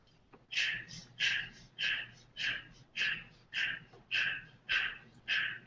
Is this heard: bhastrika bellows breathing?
yes